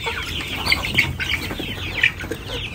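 Chickens in a backyard chicken farm cluck and call continuously close by, with several overlapping voices and occasional sharper squawks.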